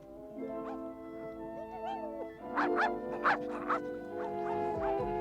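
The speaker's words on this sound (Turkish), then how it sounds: "Ormanda bir köpek var galiba." Cartoon dog whimpering and yipping in a Smurfs episode, with a soft whine at first, then a burst of higher yips and whimpers over background music.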